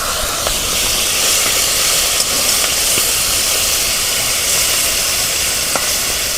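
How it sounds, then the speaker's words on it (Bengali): Prawns frying in mustard oil in a hot wok give a steady, close sizzle and hiss with a few faint clicks and no talk. "চিংড়ি মাছটা ভেজে নেব।"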